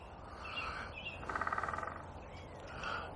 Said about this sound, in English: There's a few woodpeckers about.